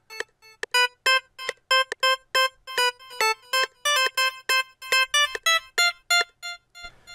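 Synthesized melody with a shaped up-and-down contour, a bright electronic tone playing a quick sequence of short, evenly spaced notes, clear and close with no voices.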